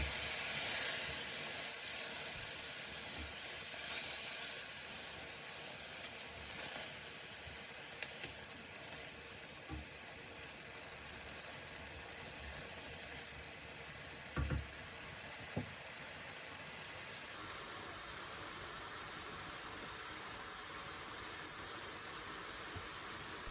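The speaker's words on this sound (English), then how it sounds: "continue to fry for a further couple of minutes, only stirring if the sauce looks like it's about to burn" Bhuna curry sauce frying in a pan, a steady close hiss and sizzle that carries on without a break, with a few faint knocks and no voices.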